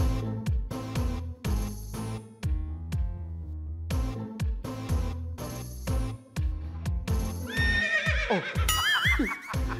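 Loud, close horse neighing and whinnying in repeated bursts on a game-show stage, with shrill rising squeals near the end.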